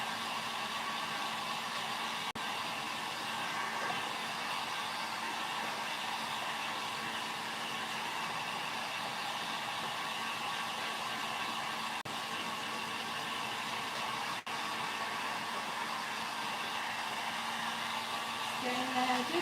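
A hair dryer runs steadily and evenly throughout, a constant whooshing drone used to dry decoupage Christmas decor, alone without talk.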